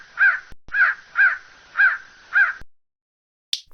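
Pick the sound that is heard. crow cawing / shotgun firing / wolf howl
crow cawing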